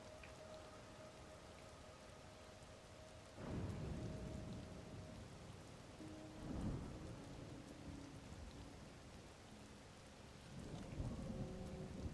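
Steady rain hisses across the Thunder Islands in the Zelda Tears of the Kingdom video game, broken by three rolling thunderclaps spaced a few seconds apart, with soft tonal game music underneath.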